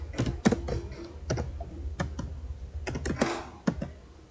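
Typing on a computer keyboard at a command line, with irregular bursts of close key clicks, several sharper taps mixed in, and no voice.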